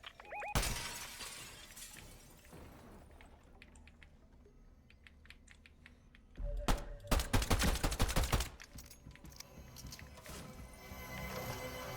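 Sniper shots ring out in the Fortnite video game as a sharp crack near the start and a dense burst of crackling impacts in the middle, over quiet game ambience.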